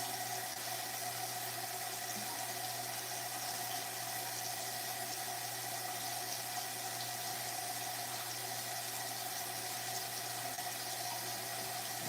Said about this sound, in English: y'all probably don't want to hear this water running right now